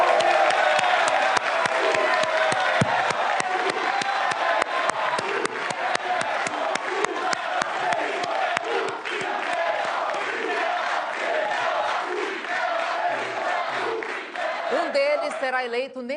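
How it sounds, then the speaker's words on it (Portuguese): A large studio audience at a Rio de Janeiro mayoral election debate applauds and cheers continuously, loud and sustained throughout, with whoops rising above the clapping. "Vamos receber com uma salva de palmas os dois candidatos, Marcelo Crivella, do PRB, e Marcelo Freixo"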